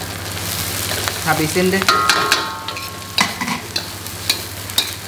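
Chili and garlic hit hot oil in a pan and sizzle while being stir-fried, with crackling bursts and scraping stirs, and a voice speaks briefly over the cooking.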